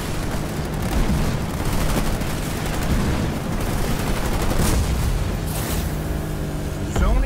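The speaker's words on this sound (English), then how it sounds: "I'm under fire from air units." Sustained gunfire from air units in the real-time strategy game Halo Wars 2 rattles loudly and continuously, with bursts of shots and booms layered over a busy battle din.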